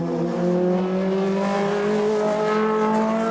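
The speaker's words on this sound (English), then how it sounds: "Number 17 coming through the Ford chicane." A 1982 Porsche race car at Le Mans drives through the Ford chicane, its engine note loud and near, holding a steady high drone that rises gradually in pitch as it accelerates, with no talk.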